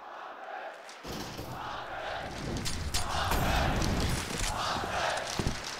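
A packed arena crowd at the IEM Katowice 2022 Counter-Strike grand final, G2 versus FaZe, chants rhythmically for the player Hunter, loud, massed and sustained, with a caster's voice speaking over it.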